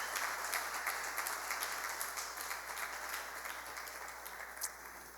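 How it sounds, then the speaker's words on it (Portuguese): A church congregation at a conference applauds together in a dense, sustained wash of clapping that fades slightly over about five seconds, with no talk over it. "Podemos aplaudir a Jesus pelo ar-condicionado?"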